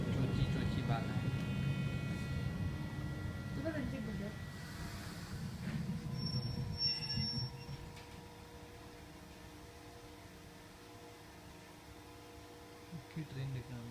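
Uetliberg railway train carriage rolling on its rails, a steady low rumble and hum that is loud for about eight seconds and then settles quieter, with faint voices nearby.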